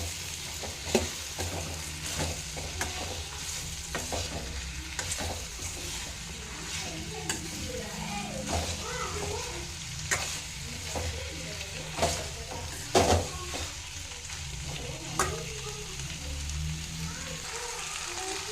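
Radish chutney fries in a pan as turmeric powder is stirred in, a steady close sizzle with repeated spoon taps and scrapes against the pan.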